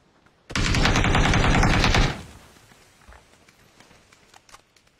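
A dense burst of rapid automatic gunfire in a first-person shooter game, loud and sustained for about a second and a half, then fading into quieter footsteps and small clicks.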